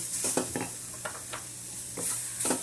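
Chopped cauliflower being stirred in a hot pan over a gas flame, with soft scraping strokes every half second or so over a low, steady sizzle, close and fairly quiet.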